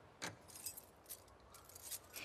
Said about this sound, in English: Did you steal my keys?